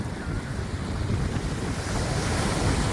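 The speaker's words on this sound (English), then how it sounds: "I love to hear the sound of the water." Waves wash onto the Lake Erie shore under strong, blustery wind that buffets the microphone, a steady close roar of surf and gusts building slightly toward the end, with no voices.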